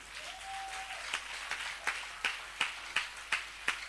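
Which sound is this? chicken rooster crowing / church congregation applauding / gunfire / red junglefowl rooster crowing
church congregation applauding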